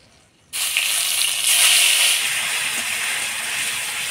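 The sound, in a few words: onion paste sizzling in oil with whole garam masala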